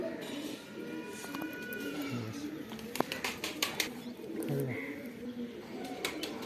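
Pigeons of the Mirab breed coo softly now and then amid outdoor background noise, with a few sharp clicks and faint chirps; someone talks nearby.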